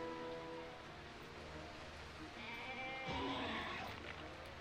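Bleating goat in Jurassic Park: Operation Genesis, a wavering nasal cry rising over a steady game ambience with a brighter burst near the end.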